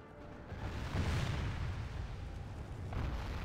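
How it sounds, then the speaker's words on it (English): Catapults fire and boulders burst across a Medieval 2: Total War battlefield in the Third Age mod, a sustained rumbling roar of booms and impacts that swells loud and lingers with no pause. "Catapults change position and... no, open fire on these."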